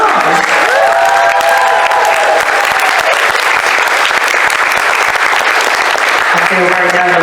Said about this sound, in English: let's have another round of applause for our robot star.